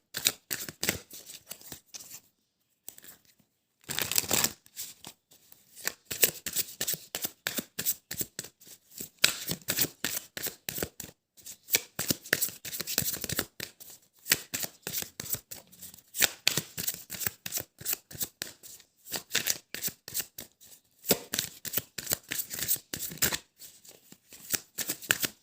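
Oracle des Météores cards being shuffled by hand in quick, crisp riffling bursts, papery flutters and slaps repeating with short pauses, close and clear, with no voices.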